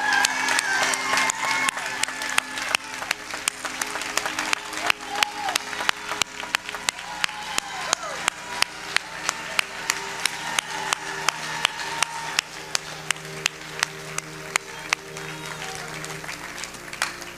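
A church congregation claps in a steady, even rhythm for a long stretch, the sharp hand claps loud and regular, with a crowd and music murmuring underneath.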